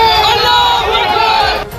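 A crowd of protesters shouting slogans against police at a barricaded street, a dense continuous mass of raised voices loud and close throughout, dropping off slightly at the very end.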